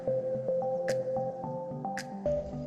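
Thick paste of tomato sauce, chili sauce, soy sauce and vinegar poured over chopped capsicum and onion in a pan, giving wet, dripping squelches and soft splats at close range with no talk.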